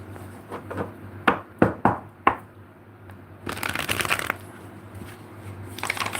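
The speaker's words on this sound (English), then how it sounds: "So I'm going to shuffle these things up" Tarot cards being riffled and bridged several times with sharp snapping bursts, then a longer stretch of rapid shuffling, close and clear with no talking.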